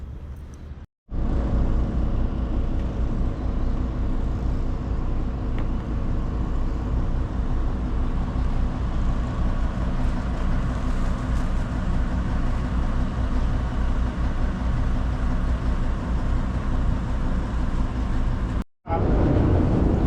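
Continuous low rumbling drone of a boat engine running on Georgian Bay, steady and broadband with no talk, briefly cutting out near the start and again near the end.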